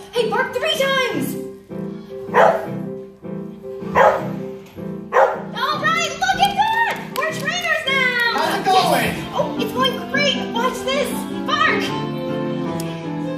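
Several sharp dog barks ring out close by at a Busch Gardens animal show amid children's chatter and lively background noise, the barks spaced irregularly through the clip.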